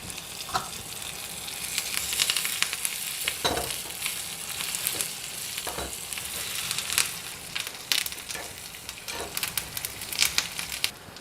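Red chillies and curry leaves sizzle with onions in hot oil, a continuous crackling hiss close by, with occasional spatula scrapes and knocks as the mixture is stirred.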